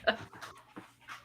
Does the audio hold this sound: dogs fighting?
yes